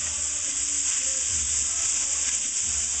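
Bacon fat sizzles in a pan on the stove as the base for a roux for a New England clam and shrimp chowder, a steady, close, bright hiss that holds unbroken throughout with no speech.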